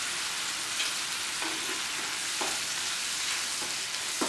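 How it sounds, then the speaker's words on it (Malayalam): Irumban puli (bilimbi) pickle mixture with tamarind and jaggery bubbling in a pan, a steady close sizzle and simmer with a few soft stirring clicks, no talking. "നന്നായി തിളയ്ക്കട്ടെ."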